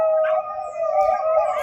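A dog howls in one long, steady, wavering tone, close and loud, with no barks heard.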